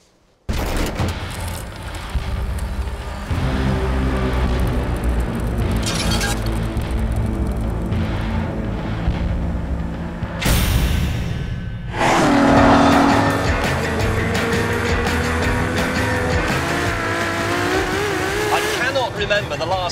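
A 950-horsepower Ferrari supercar roars loudly with engine revs and sharp tire squeal, the roar broken by a brief gap before a high, sustained screech of rubber over continuous engine noise.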